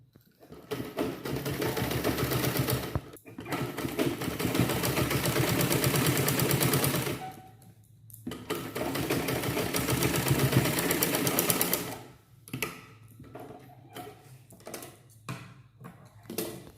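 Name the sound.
sewing machine stitching a blouse collar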